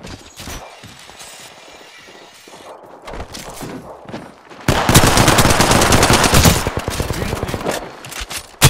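After a quieter stretch with scattered shots, rapid automatic gunfire in a video game bursts in loud and close, hammering out a dense string of rounds for several seconds before tapering off.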